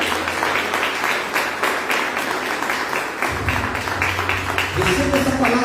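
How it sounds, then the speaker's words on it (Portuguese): A church congregation claps for the Lord during a worship service, rhythmic clapping under music with a low bass line and voices joining in toward the end. "Dê um aplauso ao Senhor."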